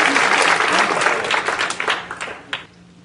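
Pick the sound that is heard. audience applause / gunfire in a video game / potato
audience applause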